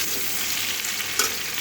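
Sweet pumpkin pieces frying in a pan, a steady close sizzle with a light scrape of stirring near the end, no voices.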